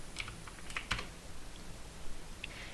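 Someone types on a computer keyboard: a few scattered key clicks and a couple of firmer taps, close but quiet against a soft background hiss.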